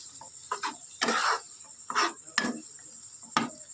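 Ground almonds fry in ghee for a halwa while being stirred, giving a soft sizzle broken by several short scraping strokes of the spoon, close and fairly quiet.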